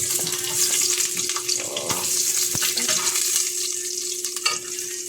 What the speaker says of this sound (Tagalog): ilagay na natin yung ating sibuyas